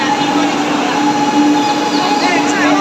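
Metro train at an underground station, a steady rumble with a high whine or squeal running through the whole stretch, moderately loud and close, no clear talk.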